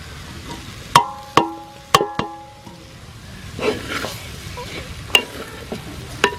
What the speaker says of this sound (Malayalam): അപ്പോൾ നമ്മുടെ കക്ക മസാലയിലേക്ക് ഇടുന്നതാണ്. എന്നിട്ട് ഇത് നല്ലപോലെ ഇളക്കി ഫ്രൈ ആക്കി എടുക്കണം.